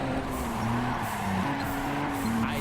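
Tires squeal in long wavering tones as a car drifts through a corner in the racing game Juiced 2, the engine droning steadily beneath at constant loudness.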